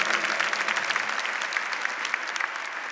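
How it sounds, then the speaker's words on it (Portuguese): A church congregation applauding the Blessed Virgin at a Catholic Mass, a dense, steady clapping that fills the space from start to finish with no talk over it. "Vamos aplaudir a Santíssima Virgem."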